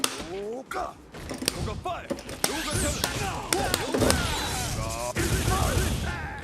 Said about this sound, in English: I'm going to toss Goku here and do a Yoga Fire. And I'm going to teleport behind him as he's getting up